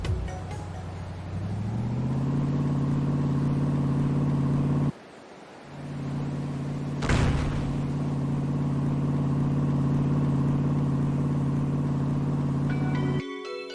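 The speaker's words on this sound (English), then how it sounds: "I also want to fade out the submarine like engine sound too at the end." A submarine-like engine from the video game Chrono Gear drones steadily with a low, constant hum, briefly cutting out midway, then returning under a whooshing swell before stopping abruptly.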